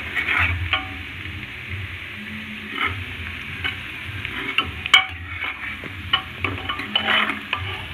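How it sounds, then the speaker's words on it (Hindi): Onions and curry leaves fry in a hot pan while being stirred, giving a steady close sizzle broken by scraping stirs and an occasional sharp clink of the spoon on the pan, with no talking. "ये हमारा प्याज ब्राउन होने वाला है"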